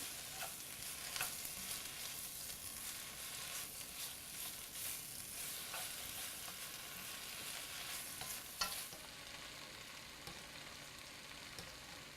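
Salmon sizzles in a frying pan while being basted, alongside sautéed spinach, a soft continuous hiss with scraping stirs and a sharper clatter near the end before the sound thins out.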